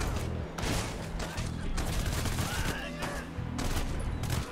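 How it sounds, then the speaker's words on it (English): Gunfire from people shooting in the PC video game Hatred, a dense run of overlapping shots over a steady low drone, loud and continuous through the clip. "they're picking up the guns and just shooting everyone"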